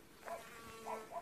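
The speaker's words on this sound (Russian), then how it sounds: "Пчелки, пчелки летают." Faint, soft buzzing of honeybees at an apiary drifts in and out, with a few brief louder whines passing nearby.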